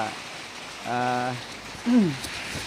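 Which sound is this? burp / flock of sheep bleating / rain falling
rain falling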